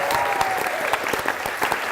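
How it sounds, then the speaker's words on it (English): Wedding guests applaud during a reception toast, a brisk, close crowd of hands clapping continuously with a few sharper individual claps standing out. "So big round of applause for Jenna"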